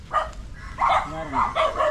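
Several dogs give short, yappy barks on a roadside amid heavy traffic, a few quick bursts spaced across two seconds, close and fairly loud.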